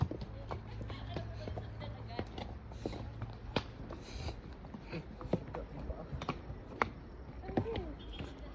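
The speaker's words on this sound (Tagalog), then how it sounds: "Tumingin sa kabayo. Pag yan yung kabayo." Horse hooves clip-clop in an irregular patter of sharp knocks, fairly close but faint, with people talking intermittently over them.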